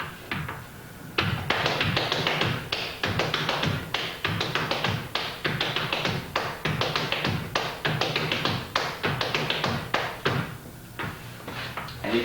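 Flatfooting dance steps mixing a 2-sound walking step on one foot with a 4-sound step on the other, heard as crisp, close taps on a hard floor in a steady rhythmic pattern that runs throughout.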